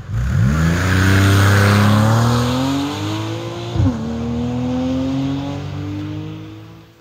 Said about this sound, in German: wenn man das jetzt im Boxerprinzip macht, also sprich gegenläufige Ventile in 180 Grad versetzt einbaut, dann klingt das Ganze so wie es Porsche macht.